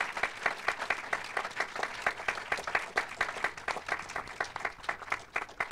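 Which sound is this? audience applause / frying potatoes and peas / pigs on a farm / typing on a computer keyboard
audience applause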